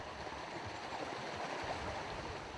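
The Rio Genal, a clean mountain river in the deep Genal Valley south of Ronda, flows with a steady broadband rush and gurgle, continuous and even throughout with no voices.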